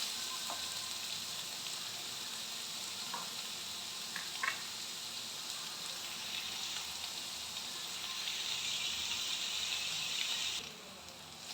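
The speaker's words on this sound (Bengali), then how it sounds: "এবার এই পেঁয়াজটাকে খানিকক্ষণ নাড়াচাড়া করে নিতে হবে, একটু ভাজা ভাজা করে নিতে হবে" Sliced onions sizzling and being stirred in a hot pan of oil for a ridge gourd curry, a steady close frying hiss with a few soft spatula scrapes, no talk.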